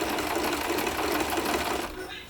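A sewing machine runs steadily, zigzag stitching a fabric letter onto a scrap backing piece, a continuous close whirring that stops abruptly near the end, with a voice talking over it.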